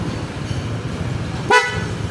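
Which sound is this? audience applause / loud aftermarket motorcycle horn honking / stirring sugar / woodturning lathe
loud aftermarket motorcycle horn honking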